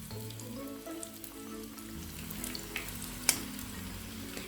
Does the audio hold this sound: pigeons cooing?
no